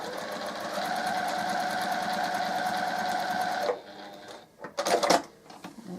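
A sewing machine stitches a flying geese quilt block with a steady, rapid whirring rhythm. It cuts off sharply partway through, and a few brief handling rustles and clicks follow.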